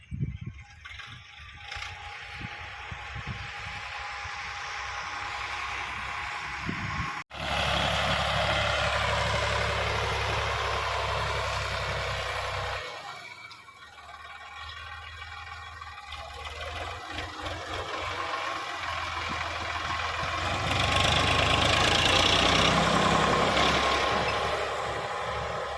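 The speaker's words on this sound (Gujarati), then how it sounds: "ટ્રેક્ટરને આજે આપણે બોલાવી લીધું છે તો ટ્રેક્ટરનું કામ ચાલુ છે" A heavy diesel Sonalika tractor engine runs steadily throughout, a deep rumble with rattling, rising and easing as it does land-levelling work nearby.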